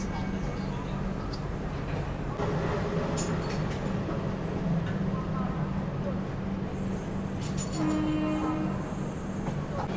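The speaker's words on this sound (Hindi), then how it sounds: "प्लेटफॉर्म नंबर 8 से अब डिपार्चर हो चुका है अजमेर सियालदा सुपरफास्ट एक्सप्रेस का" Ajmer Sealdah Superfast Express pulling away from platform 8 at a railway station, a steady low rumble of wagons rolling past with brief horn-like tones and station bustle throughout.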